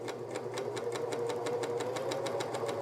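A cover stitch sewing machine stitches at a fast, even rhythm, a close, steady mechanical hum with rapid regular needle ticks.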